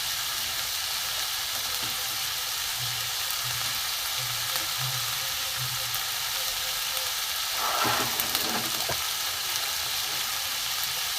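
Potato, carrot, cauliflower and beans fry in a pan with a continuous oily sizzle. Soft knocks of stirring come and go, and a louder burst of hiss and clatter follows midway.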